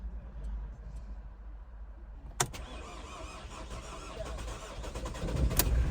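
An Opel car engine with a weak battery is cranked after a click, the starter turning sluggishly and laboring for several seconds, quiet and muffled, without clearly catching.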